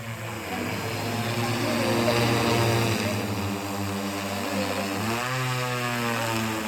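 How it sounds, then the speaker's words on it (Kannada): A drone flies overhead outdoors with a steady, loud propeller whine that holds for several seconds and then shifts pitch as it climbs or turns, with no voices heard. "ಇವಾಗ ಡ್ರೋನ್ ನೋಡಿ ಎಲ್ಲಿ ಹೋಗಿದ್ದು"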